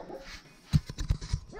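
Dogs barking nearby in a short burst of several quick barks and yips, fairly loud, following a quieter stretch of background noise.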